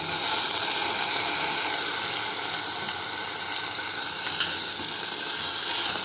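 Potatoes sizzle in hot oil in a frying pan, a steady bright crackling hiss that holds evenly throughout with no talking.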